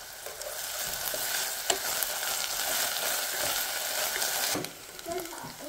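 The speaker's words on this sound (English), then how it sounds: "Now add ginger garlic paste and mix until the raw smell is no more." Ginger garlic paste fries and is stirred in a pan with green chili and curry leaves for a Sri Lankan seafood curry, giving a continuous close sizzle with a spoon scrape and clink near the end.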